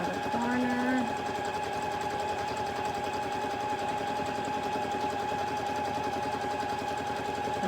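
A sewing machine hums steadily and close while free-motion quilting tumbling block stitches on fabric, running continuously for several seconds with a brief higher whine near the start.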